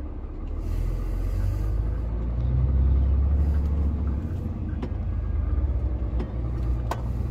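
A road vehicle's engine rumbles steadily and close by, its low drone swelling as it accelerates, with faint mechanical rattles near the end.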